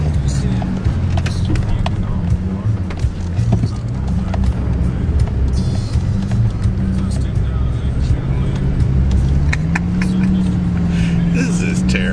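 A car revs hard trying to accelerate on slippery snow, its engine a loud sustained rumble with a pitch that climbs near the end, heard close from inside alongside road noise.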